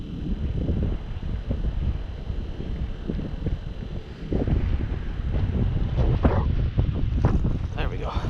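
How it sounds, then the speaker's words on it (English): Strong wind gusting across open ice during early-season ice fishing in Iowa, a loud buffeting rush on the microphone that swells midway, with someone talking over it. "Oh my god, that wind."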